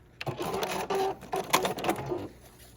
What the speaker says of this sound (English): you want to stitch about 1/8 of an inch to 1/4 of an inch beyond the end of your stitch line